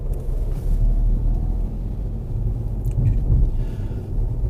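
Ford Fiesta supermini with a 1-litre EcoBoost engine cruising on a motorway, a steady loud low road and engine rumble with continuous tyre noise, heard alone from inside the car.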